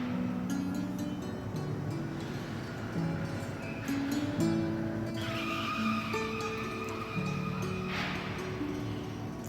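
Cars are driven one by one onto the upper deck of a cargo ship during loading, with tires squealing and chirping against the deck over a steady, echoing engine and machinery drone.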